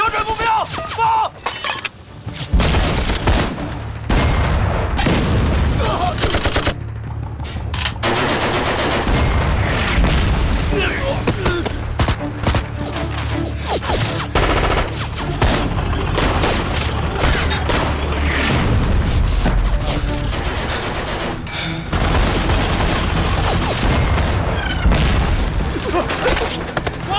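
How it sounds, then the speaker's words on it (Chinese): Grenade launcher blasts and gunfire roar through a war film battle scene, with loud booms, rattling shots and mechanical clatter almost nonstop, while shouting voices cut in among the explosions. "掷弹筒！ 瞄准目标，放！"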